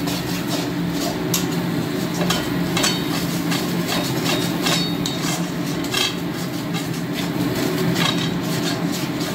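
A spoon scrapes and knocks against a pan while bean mash with Kashmiri red chilli powder is stirred, giving repeated metallic clinks and scrapes over a steady sizzling hiss, close and continuous.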